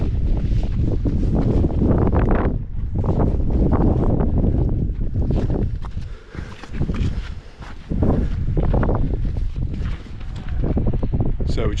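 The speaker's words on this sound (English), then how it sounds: "In here it's pretty windy." Strong wind buffets the microphone on an open hillside in the Peak District, roaring loudly and almost without pause, easing briefly midway before gusting hard again.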